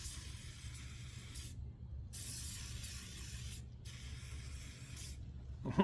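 Curl activator is sprayed onto hair in two or three long hissing spritzes, close and fairly soft, with brief pauses between them and no talking.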